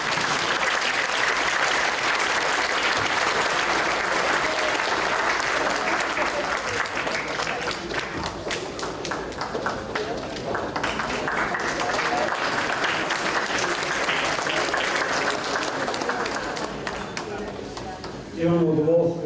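An audience at a university celebration claps continuously for nearly twenty seconds, dense and fairly close, with voices mixed in through the applause before a brief louder burst at the end.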